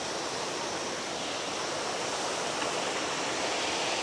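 A waterfall beside an off-road mountain route from Sandhikharka to Dhakabang gives a steady, dense rushing roar that stays loud and even throughout, with no voices.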